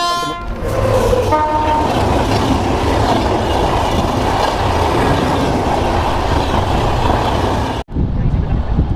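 A passenger train rumbles steadily past at close range near Varanasi station, a couple of short horn toots sounding near the start over the continuous roar and rattle.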